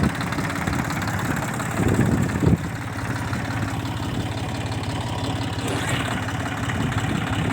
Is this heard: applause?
no